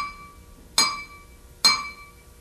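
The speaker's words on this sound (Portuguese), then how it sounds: "quando eu bater com a baqueta no copo" A drumstick strikes a glass of water twice, each hit a bright ringing clink that decays slowly, close and clear in a quiet room.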